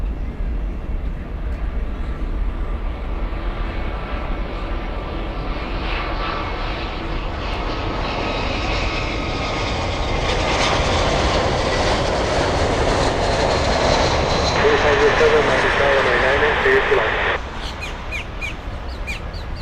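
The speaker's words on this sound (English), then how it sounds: "The takeoff flying to Bogota, Colombia." An ABX cargo jet takes off from Miami International, bound for Bogota, a loud continuous engine roar that swells steadily and holds strong for most of the stretch before dropping off sharply near the end.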